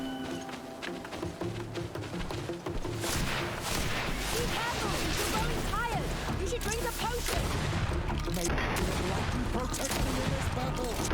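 Rifle shots in the video game GreedFall ring out as dense, loud gunfire bursts over a steady, busy game soundscape that continues for the whole stretch.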